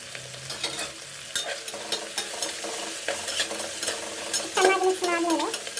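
Onion and tomato frying in a pan while being stirred, a close sizzle broken by repeated scraping utensil strokes, with a brief clatter near the end.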